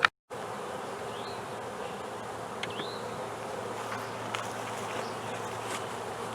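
Honey bees buzz in a steady, faint, continuous drone around a swarm-catch hive drawing out fresh comb, with a few individual bees whining past closer now and then and no talking.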